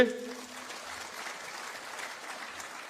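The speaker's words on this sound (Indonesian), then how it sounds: "Tepuk tangan dulu buat UCB." Audience applause at a university event, a soft, diffuse patter of many hands heard from a distance, fairly faint, following a brief tone at the start.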